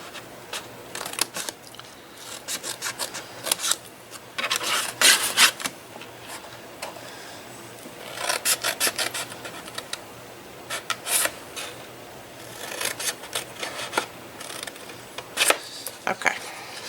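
Notches are cut into a handmade storage box with rasping, scraping strokes and crisp snips, coming in uneven bursts close by over a low background hum.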